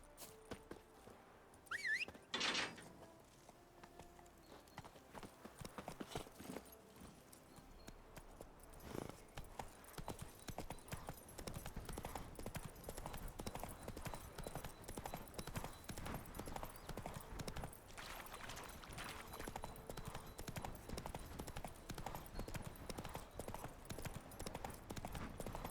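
Roach, a horse in Witcher 3, walks with steady hoof clip-clops on hard ground throughout, the hoofbeats fairly close and continuous amid background ambience, with a brief louder thump near the start.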